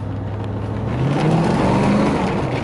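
A 1989 Chevrolet Corvette Targa with a 350 V8 pulls away, its steady low engine note rising slightly as it rolls off, close and continuous with no talking.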